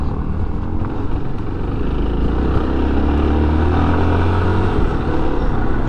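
A Yamaha Ténéré 250 motorcycle engine held at high revs, a loud steady drone with a deep rumbling hum throughout, close and continuous.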